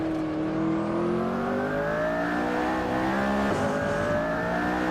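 A McLaren accelerates hard down a race track, the engine note climbing steadily in pitch, loud and close throughout with a brief dip partway through.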